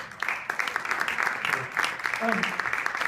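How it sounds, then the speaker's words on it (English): An audience at a NAMM 2015 panel breaks into applause, a dense patter of many hands clapping with a voice speaking faintly beneath. "So would you please give a wonderful round of applause for Joe Hardy here."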